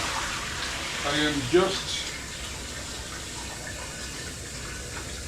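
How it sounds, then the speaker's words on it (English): Running tap water pours over thawed beef being rinsed in a kitchen sink, a steady broadband wash with a brief louder splash near the start, while a person talks over it. "Rinsing out the blood from the meat."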